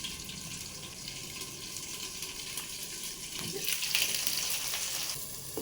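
Brinjal and parwal curry frying in a pan while being stirred: a soft, fairly faint continuous sizzle with occasional scraping and clinks of the spoon, swelling slightly toward the end.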